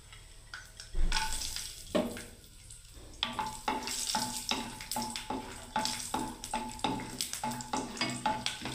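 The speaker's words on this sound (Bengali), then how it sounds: "এই বাদামটাকে ভালোভাবে ভেজে নিচ্ছি দেখুন।" Peanuts fry in hot oil in a pan, a close sizzle broken by a fast, regular run of stirring scrapes that keeps going to the end.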